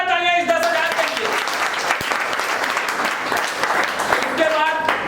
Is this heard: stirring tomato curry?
no